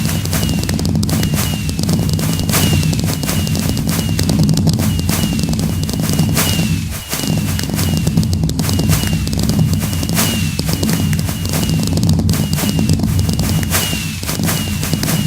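Minecraft fireworks fire from redstone dispensers on a barge in rapid, continuous volleys, a dense barrage of pops and booms with crackling bursts that barely lets up, briefly dropping out midway before resuming.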